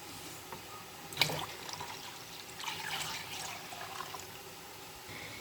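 Water pours and splashes from a jug into a container of lassi in a steady gush, with a brief clunk near the start.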